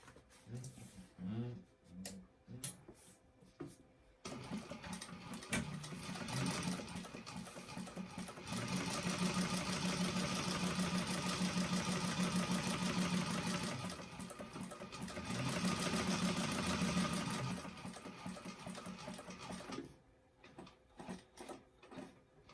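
A sewing machine stitching a fabric bag, running in close, steady bursts of rapid mechanical ticking with pauses between runs and a voice talking around it.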